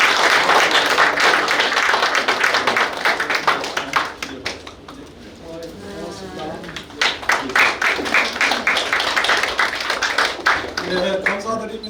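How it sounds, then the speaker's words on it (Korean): Audience clapping at a lecture on disability awareness at a Korean medical center, loud uneven bursts of hands that thin out midway, then return, with voices and chatter mixed in. "큰 박수 부탁드립니다."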